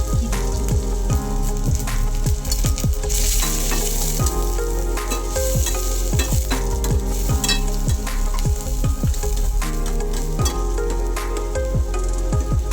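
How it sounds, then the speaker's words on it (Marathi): Cabbage and onion frying with mustard seeds in hot oil for Maggi noodles, a loud, constant crackling sizzle with rapid, rhythmic spatula scrapes and taps against the pan, all close up and with no talking. "त्यामध्ये थोडीशी मोहरी घालून घेऊया. त्यानंतर पत्ताकोबी, कांदा आणि"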